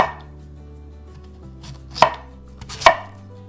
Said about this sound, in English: slice and julienne radish.